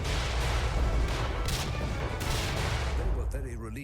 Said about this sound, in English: why the fuck is everything exploding?